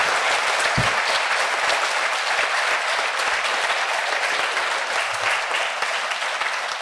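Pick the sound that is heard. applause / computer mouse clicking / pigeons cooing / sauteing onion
applause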